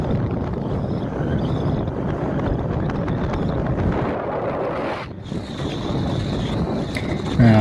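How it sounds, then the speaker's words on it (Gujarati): Strong wind blowing outdoors beside a canal at the Meldi Maa temple in Surat, a steady loud roar buffeting the microphone throughout with a brief lull just past the midpoint. "પવન બહુ આવે છે"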